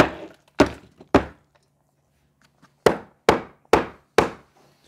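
A hammer knocks on a wooden window frame during window removal. Seven sharp, solid thunks fall in two groups, three and then four, close and loud.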